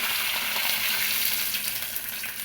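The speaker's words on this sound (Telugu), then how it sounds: "ఇది బాగా ఫ్రై అయిన తర్వాత మన పల్లీ చట్నీలో వేసేసుకుందాం" Ingredients for a coconut-free peanut chutney fry in a pan with a steady, dense sizzle and a soft stirring scrape. The sound runs continuously at an even level from start to end, with no voices.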